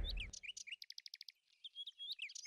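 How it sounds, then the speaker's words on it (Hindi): Cartoon parrots chirp in a quick flurry of bright, high tweets, starting with a short musical note, then a rapid evenly spaced trill and scattered chirps, faint and alone without voices. "बीरबल ने एक बहुत बड़ी बन जगह पर उन तोतों को खुला छोड़ दिया"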